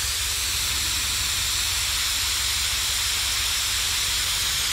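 A spray gun lays House of Color SP1600 polyester primer onto the underside of a vintage surfboard, giving a loud, steady, unbroken airy hiss that holds level throughout.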